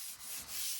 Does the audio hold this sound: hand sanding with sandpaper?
yes